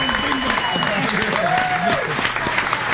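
A comedy-show audience breaks into dense, continuous applause and cheering for a performer named Justin, with a voice talking over the clapping throughout.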